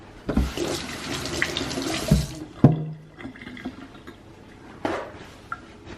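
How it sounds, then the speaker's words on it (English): Running tap water splashing over hands at a kitchen sink during cooking, a steady rushing stream with a few clinks and knocks, close and fairly loud, with no talking. "Let me just wash my hands real quick."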